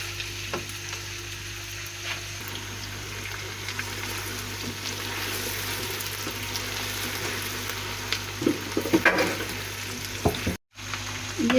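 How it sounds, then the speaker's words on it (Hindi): Mutton sizzles in a pan as it fries for shalgam gosht, a steady close hiss with low hum and a few clinks and stirring scrapes near the end. "अब ये अच्छी तरह से जो हमारा गोश्त फ्राई हो जाए"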